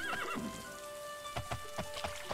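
A horse neighs in the Daggerfall Unity video game, a wavering whinny near the start, followed by a series of soft, evenly spaced hoof clops over a steady ambient hum.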